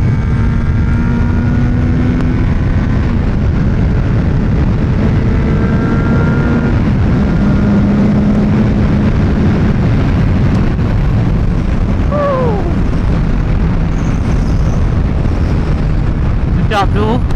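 A CFMOTO 675SR-R three-cylinder motorcycle engine runs steadily while riding, with a smooth drone under heavy, constant wind rush, and a few pitch shifts late on.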